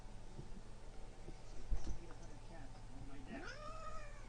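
A cat meows a few times at a desk, the calls rising and falling under a steady background hum and quiet talking.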